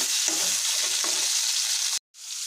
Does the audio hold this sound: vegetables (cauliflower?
yes